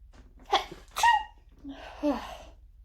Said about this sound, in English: Got the sneezes today